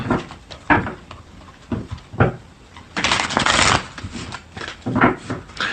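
Tarot cards being shuffled by hand in repeated bursts of riffling and sliding, with a longer sustained shuffle in the middle, close and fairly loud with no talking.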